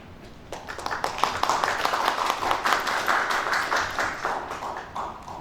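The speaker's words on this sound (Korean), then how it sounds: "우리 이광재 예비 후보의 모두 발언, 소신 발언을 박수로 청하겠습니다." An audience claps for a candidate's opening remarks at a Democratic Party presidential primary debate in South Korea, with steady, moderately loud applause that swells and continues for several seconds.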